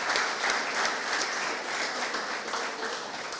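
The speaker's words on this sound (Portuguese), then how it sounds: "uma salva de palmas ao nosso autor" Steady applause from an audience at a book launch at the Instituto Camões, honoring the author; dense, even clapping fills the room for a few seconds with no talk over it.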